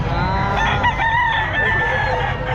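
A lemon sweater gamecock rooster crows loudly and close at a Filipino rooster market, its drawn-out call lasting over two seconds above steady crowd noise and low rumble.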